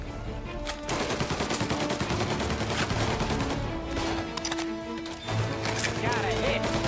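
A shootout in Mafia: Definitive Edition, with dense rapid gunfire and machine-gun bursts crackling continuously and close, layered under shouting voices.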